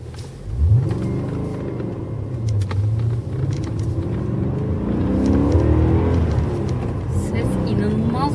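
A BMW M5 engine rumbles and revs, rising in pitch, outdoors among trees, while people talk over the steady low drone.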